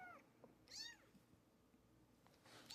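A house cat that was allowed outdoors, now shut in a sandblast shed, giving a few faint, short meows with quiet gaps between them.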